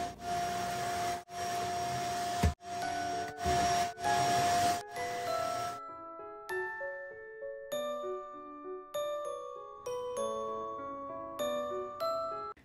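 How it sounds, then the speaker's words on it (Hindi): A vacuum cleaner runs over a closet floor carpet in a home for the first few seconds, droning with brief bumps and pauses, before giving way to soft melodic chime-like music tones. "क्लोजेट में नीचे जो कारपेट आपको दिखाई दे रहा है यहाँ उसे मैं वैक्यूम की हेल्प से क्लीन कर रही हूँ"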